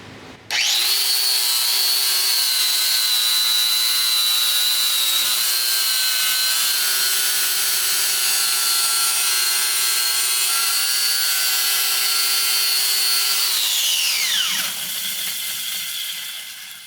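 A 4.5-inch angle grinder refinishes a car brake rotor from a 1979 Mercury Cougar XR7, spinning up and holding a loud, steady high whine for about thirteen seconds before winding down.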